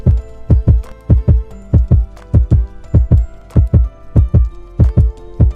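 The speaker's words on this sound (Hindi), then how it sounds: "इधर सभी की दिल की धड़कनें तेज हो जाती है।" A heartbeat sound effect for racing hearts in an animated film teaser, loud deep double thumps repeating in a steady, fast rhythm with nothing else around them.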